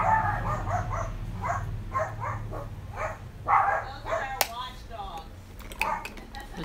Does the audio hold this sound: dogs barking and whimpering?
yes